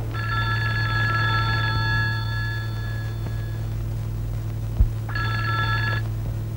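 An office telephone rings with a steady electronic trill. It sounds as one long ring, a brief pause, then a second ring, under a low constant hum.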